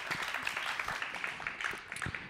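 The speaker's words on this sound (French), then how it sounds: "On l'applaudit bien fort, s'il vous plaît." An audience applauding at the final of a 'Ma thèse en 180 secondes' thesis-presentation contest: steady, dense clapping from a large crowd throughout, heard at some distance.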